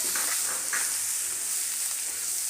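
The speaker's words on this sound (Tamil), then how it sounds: "இந்த லீவ்ஸ் ஆட் பண்ணி ஒரு ஃப்ரை கொடுத்த உடனே" Leaves fry with dry spice powders in a pan over low flame, producing a soft, continuous sizzle with a few light stirring scrapes early on.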